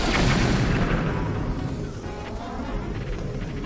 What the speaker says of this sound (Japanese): 爆弾矢を使うと爆発描写を思う存分堪能することができます。